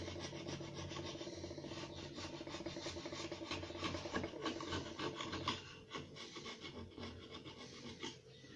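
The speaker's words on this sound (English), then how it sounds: "this ground down screwdriver, so it's ground perfectly flat to use as a scraper, is working rather well" Steady rasping scrape of a flat-ground screwdriver used as a scraper in a workshop shed, continuous and close for most of the stretch, then easing into shorter strokes toward the end.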